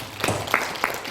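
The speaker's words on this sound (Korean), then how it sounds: "박수 한번 해줍시다." Church congregation clapping during a Korean sermon, a short burst of applause with a few sharp, distinct claps rising out of a steady patter of many hands, fairly close and loud, with no talk over it.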